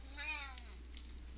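A house cat with fleas lets out one faint, drawn-out meow close by in a quiet room, followed by a brief soft rustle.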